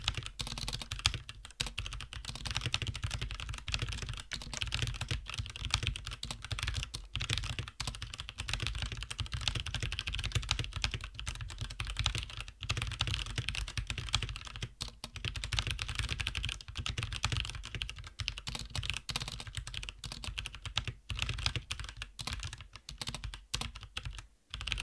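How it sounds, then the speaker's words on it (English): Someone types fast and steadily on a mechanical keyboard. Dense, clacky keystrokes run without pause for about 25 seconds, recorded close up with no voices. "Here's a typing demonstration."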